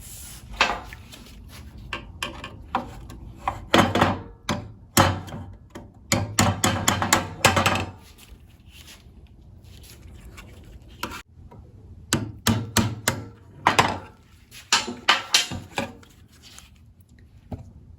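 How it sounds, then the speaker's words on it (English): Sharp metallic taps as a screwdriver is hammered over small metal seal-retaining tabs on a Toyota Highlander V6 engine come in irregular bursts of quick strikes, with quiet pauses between clusters, close and fairly loud. "I'm going to use this to hammer over those little tabs"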